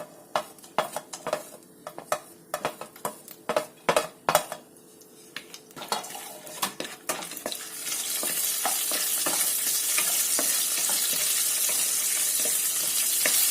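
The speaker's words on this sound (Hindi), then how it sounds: "सबसे पहले मैं अपने बादाम इसमें थोड़ा सा भून लेंगे 1-2 सेकंड के लिए।" Almonds for carrot kheer are roasted in a pan: sharp, rapid spoon clinks and scrapes against metal at first, then a rising, steady sizzle that keeps going under lighter stirring, with no voices.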